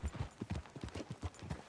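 In a video game, horse hooves clip-clop in a steady rhythmic gait on a hard surface near a sheriff's office, moderately close and without talk.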